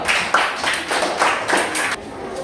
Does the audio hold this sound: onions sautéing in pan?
no